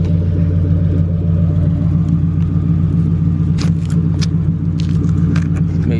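A Ford Crown Victoria on 28-inch wheels with an aftermarket exhaust idles with a deep, loud, steady rumble up close, a low throbbing drone that holds even with faint clicks and light rattles on top and no real rev.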